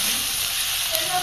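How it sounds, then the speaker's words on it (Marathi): Onions sizzle in a pan, browning toward golden in a spicy guar bean curry, a steady bright frying hiss heard up close for a brief moment. "हे बघा कांदा चांगला लालसर होऊन घेऊया आपण"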